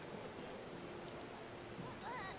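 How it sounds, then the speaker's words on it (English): Steady rain falls in the Final Fantasy XIV game world, a constant soft hiss of drops that fills the whole moment without pause, with a few faint chirps near the end. "It's raining."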